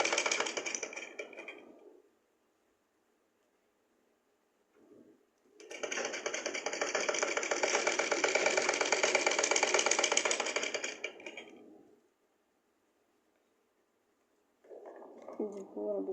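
A sewing machine stitches fabric in two runs, a short burst and then a longer steady whirring hum lasting several seconds, loud and close, with silent pauses between and a brief bit of other sound near the end.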